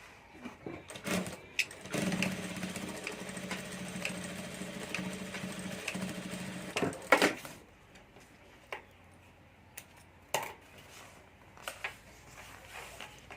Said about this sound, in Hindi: अब यहाँ हमें सिलाई करके हैंडल जोड़ देना है